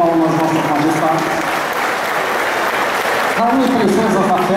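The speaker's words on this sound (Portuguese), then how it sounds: "Uma salva de palmas, Vossa Majestade." Applause for the royalty at a Schützenfest, a marksmen's festival: continuous crowd clapping with voices and tonal sounds running underneath, dipping briefly before picking back up.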